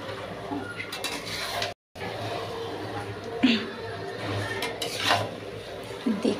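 Meat is stirred and sautéed in a pan for a red, spicy curry, with a spoon scraping and clinking against metal at irregular intervals over a low background sizzle, close and moderately loud.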